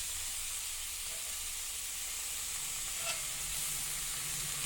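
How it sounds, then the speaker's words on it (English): Steady broadband whoosh of a kitchen extractor fan running over a stovetop, with a faint sizzle of cheesy cauliflower chicken cooking beneath it; constant and moderately quiet with no talking. "Sorry for the noise of the fan."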